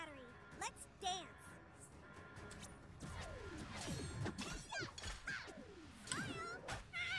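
Cartoon cats in South Park: The Fractured But Whole meow and yowl repeatedly in short pitched cries, mixed with game thuds and a voice talking during the battle.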